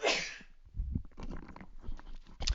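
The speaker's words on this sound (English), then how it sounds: "I'm going to sneeze, bear with me." A man sneezes once at the start, a loud close burst, followed by rustling and handling noises while he recovers.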